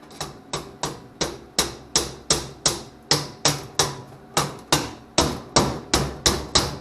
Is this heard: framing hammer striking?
yes